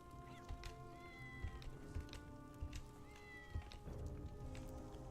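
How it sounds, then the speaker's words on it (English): Several cats meow repeatedly inside a Khajiit-themed player house in Elder Scrolls Online, with overlapping mews rising and falling over soft background music and no talking. "Best thing about having lots of cat pets in your house is that you can just hear them meowing all the time."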